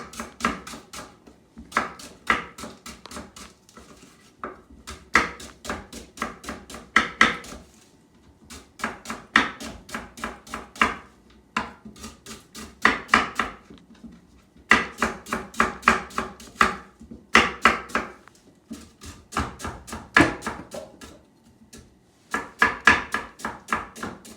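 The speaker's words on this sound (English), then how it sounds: "You cut it according to how you want it to be cut." Rhubarb stalks are chopped on a board with a kitchen knife, producing rapid bursts of crisp, evenly paced knocks separated by short pauses, close and clear with no talking.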